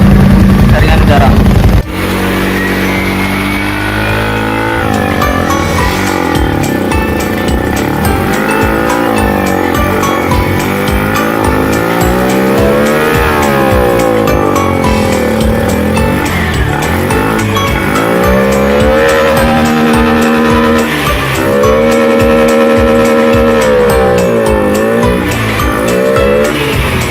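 A Honda Beat Fi 110 cc fuel-injected automatic scooter engine runs during a throttle body cleaning tune-up, loud and close, its pitch rising and falling through repeated revs.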